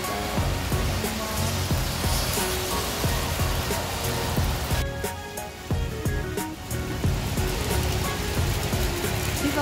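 Steady rain falls during a walk beside the swollen Nakdong River in Daegu in the monsoon season, a dense continuous hiss with scattered drops and patters, close and fairly loud throughout.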